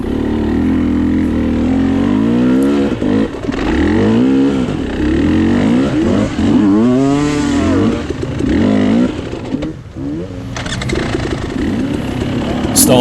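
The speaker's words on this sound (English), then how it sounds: "So I pulled my bike out, get back to climbing." A KTM 300 XC-W dirt bike climbs a muddy hill during a hare scramble race, its engine loud and close, revving up and down continuously in rising and falling surges.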